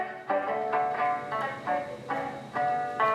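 A cello sample with its fundamental frequency filtered out plays a thin, hollow series of short bowed notes in a steady repeating rhythm, quiet and alone.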